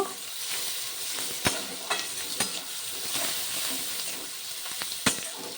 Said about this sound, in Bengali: রসুন আর পেঁয়াজ ভালো করে ভাজা ভাজা করে নেব